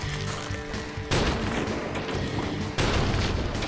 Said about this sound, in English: I'm gonna now explode them.